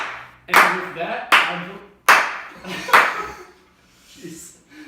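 Several loud, sharp hand claps in an uneven rhythm, each with a short decay, followed by a softer tail near the end with a voice faintly present.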